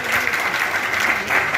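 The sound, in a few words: audience applause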